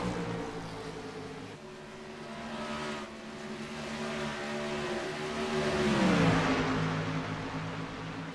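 Race cars accelerate around the track in a racing series, engines droning loudly and sweeping in pitch as they pass close by.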